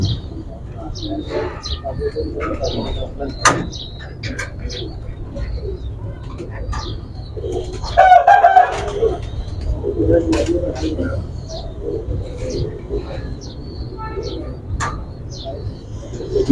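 Pigeons coo softly close by, low throaty calls repeating amid chirps and rustling, with people talking intermittently.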